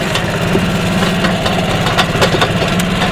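Golf cart engine drones steadily while driving along a wooded property trail in fall, a close, loud, even motor hum with faint rattles and bumps throughout.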